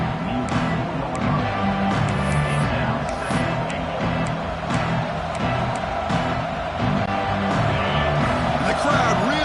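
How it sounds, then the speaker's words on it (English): Stadium crowd in a college football video game, Georgia at Alabama, roaring and cheering near the goal line: a dense, loud, continuous wash of crowd noise with scattered sharper shouts throughout. "The crowd really making some noise now, trying to help out this defense to get this stop near the goal line."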